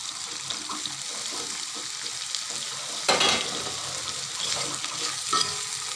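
Chicken breast with chilli powder and roasted cumin powder sizzling in a pan, a moderate fry with a sharp burst of sizzle as it is stirred about halfway through.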